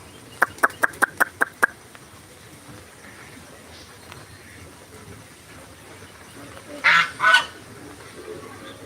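Ducks kept outdoors in the rain call from a yard, first a quick burst of six or seven sharp honking quacks, then a quieter stretch, and then two louder squawks near the end.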